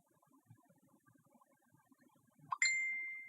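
A phone notification chime rings out alone after a stretch of faint low background murmur: a short blip, then a bright, clear ding that lingers and slowly fades.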